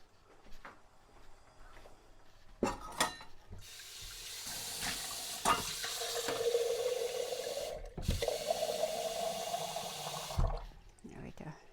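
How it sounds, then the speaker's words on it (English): Custard being stirred in a bowl set in an ice bath of really cold water, with splashy sloshing and running-water sounds building in the middle and a few sharp knocks, close up, amid quiet kitchen handling. "Give it a good stir,"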